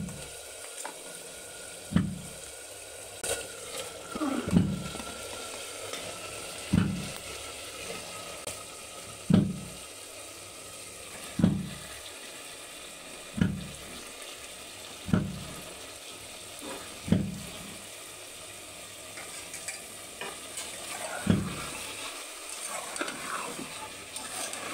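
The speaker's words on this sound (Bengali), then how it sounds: "মাংসটা ভালো করে কষানো হোক" Pieces of indigenous (desi) chicken are fried in spiced masala, a low steady sizzle broken by regular spatula scrapes every couple of seconds as the meat is turned and stirred, close by.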